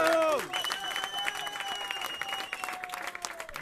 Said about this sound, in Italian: Quindi fategli un applauso